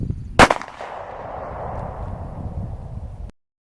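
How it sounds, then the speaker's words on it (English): A single sharp gunshot from a Speer Gold Dot defensive round striking a can, a loud close crack followed by a long rolling outdoor echo that fades for about three seconds before cutting off. "when I shot that can, it laid it open perfectly"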